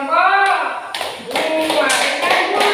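Applause from students for a group in an Indonesian classroom, with a few sharp, rhythmic claps over a voice and speech.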